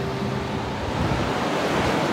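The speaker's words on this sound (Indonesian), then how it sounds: "Dan gelombangnya agak kuat loh." Strong ocean waves roll in along with gusting wind on a windy morning near Maratua in Derawan. The wash is loud and unbroken with a low rumble, and no voices are heard.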